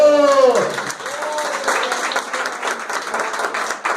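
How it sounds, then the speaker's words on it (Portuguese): A church congregation claps in praise during a sermon, and a loud ringing tone fades out at the start. Steady applause continues to the end, with voices faintly mixed in. "Aleluia, aplauda o Senhor."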